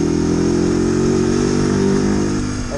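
A Mash 50cc four-stroke motorcycle engine idles close by with a steady, buzzing hum and a slight vibration, holding an even pitch before easing off a little at the end; nobody speaks.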